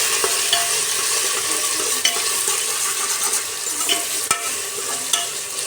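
Onion, tomato and peanuts frying for khichdi in a pan, a bright, dense sizzle with intermittent spatula scrapes and clicks against the metal, close and fairly loud, with no voices.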